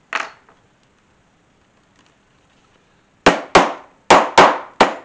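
Hammer strikes flatten metal rivets on a leather guitar strap: one sharp knock, a pause of near silence, then five crisp close blows in a quick, uneven rhythm, each decaying fast.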